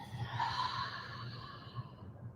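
A long, drawn-out breath is exhaled through the mouth, a soft airy rush lasting a couple of seconds, close and fairly quiet, easing off gradually.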